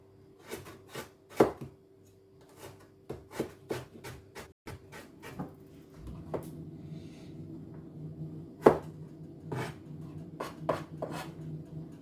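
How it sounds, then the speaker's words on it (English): Coconut is diced on a cutting board in a run of crisp, close knife chops, quick irregular bursts with brief pauses and a faint steady hum underneath. "Then I'm going to be dicing them up. Not too thick."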